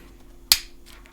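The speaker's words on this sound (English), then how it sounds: "go until you hear that click" Plastic extension grip snapping onto a Quest 2 VR controller: a single sharp, close click, alone in a quiet room.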